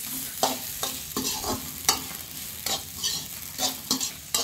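Onion frying in a pan with homemade red chilli powder, mutton masala and poppy seeds, a constant sizzle broken by a series of sharp scraping stir strokes at uneven intervals, close and clear with no voices.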